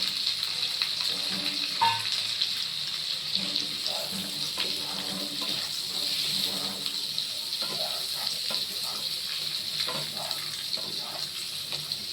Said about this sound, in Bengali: এটা আবার ভাজা ভাজা করে দিয়েছি, চিংড়ি মাছের সঙ্গে ভাজবো।